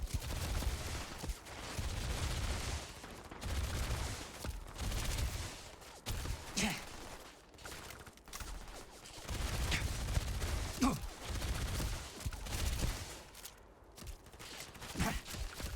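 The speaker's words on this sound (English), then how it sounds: "I always forget this gun is full auto." Full auto gunfire in the video game Starfield, sustained loud bursts of rapid shots that rattle on and off with brief pauses between volleys, close and dense throughout.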